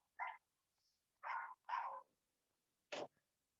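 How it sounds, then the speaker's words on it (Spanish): A neighbours' dog barks in four separate bursts, fairly faint and distant, with quiet pauses between them and no talk over it. "escuchaba mucho el perro de mis vecinas"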